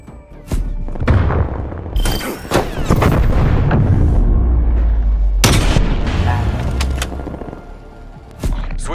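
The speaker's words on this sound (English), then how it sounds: "Stun grenade out." A stun grenade and gunfire in a Call of Duty Cold War Search and Destroy match, with loud booming blasts and sharp cracks that layer into a dense, sustained roar before a final burst.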